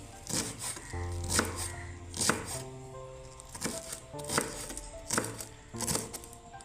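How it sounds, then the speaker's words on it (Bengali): Knife chopping cabbage finely on a board for cabbage pakoras, a brisk run of sharp, close cuts arriving in quick bursts with short pauses between them, with no talking. "বাঁধাকপিগুলোকে প্রথমে আমি কুচি কুচি করে যতটা সম্ভব কেটে নিচ্ছি"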